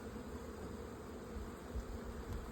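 Many honeybees droning at an opened hive that still holds its queen, a soft, even buzzing hum that swells slightly toward the end, heard alone at low volume.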